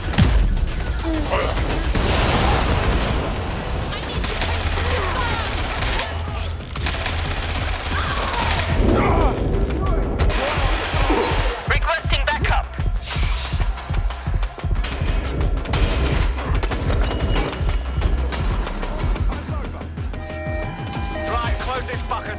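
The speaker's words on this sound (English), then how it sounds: "Getting shot at here!" Sustained gunfire during a Watch Dogs: Legion firefight, dense volleys of rapid shots over a constant loud background of game music and effects, with voices talking throughout.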